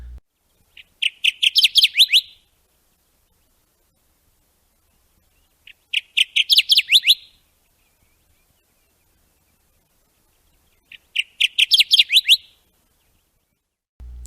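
Kirtland's warbler male singing a loud, low-pitched song that rises at the end, heard as three separate phrases of rapid repeated notes with quiet gaps between them.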